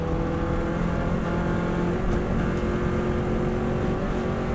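Subaru WRX STI driven flat out around the Isle of Man road course, its engine a loud, unbroken roar held at high revs from start to finish.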